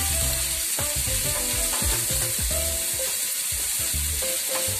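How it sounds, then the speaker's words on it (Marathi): Chopped onion frying in hot oil in a pan for a home-style Malvani val bean curry, a steady loud sizzle with scraping stirring strokes throughout, no voices. "आता मी त्यात कांदा टाकते। फिरवून घेते।"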